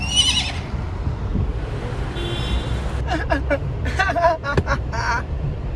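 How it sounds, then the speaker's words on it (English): A horse pulling a buggy along a roadside neighs in a brief whinny near the start, with passing traffic, a car horn toot and chatter from people close by following. "that's a real horse and buggy next to the horse and buggy I was just talking about"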